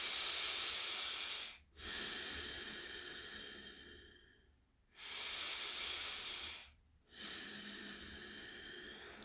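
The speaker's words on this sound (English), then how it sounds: "Take 2 cycles of breath." Slow, deep breaths are drawn in and pushed out during a yoga bridge pose, with long airy inhales and exhales over about two full cycles and short silent pauses between them, close and with no talk.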